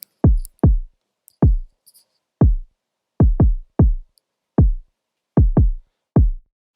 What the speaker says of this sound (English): I just drew in this really simple kick pattern that sounds like this